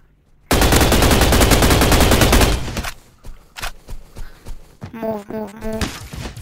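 Video game battle gunfire: a loud sustained burst of rapid automatic fire up close, then scattered single shots and thuds, with people talking over the later shots.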